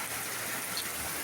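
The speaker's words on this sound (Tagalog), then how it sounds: "Kasugag ulan ay." Heavy rain during flooding in Southern Leyte, a steady dense hiss filling the whole short stretch with no talk over it.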